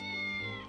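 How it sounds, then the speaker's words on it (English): A cat meows once in the video game Triangle Strategy, a single clear, drawn-out mew lasting under a second, close and alone. "Oh, there's a cat."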